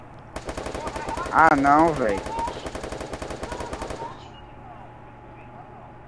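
Rapid machine-gun fire rattles steadily for about four seconds, loud and close, while a voice calls out over it before the shooting stops.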